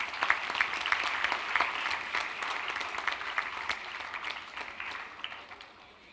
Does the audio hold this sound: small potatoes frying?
no